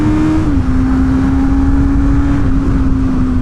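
Honda CB650R motorcycle engine on a race track, a loud steady inline drone that drops in pitch as the rider brakes and shifts down, then holds a smooth lower tone, alone without speech.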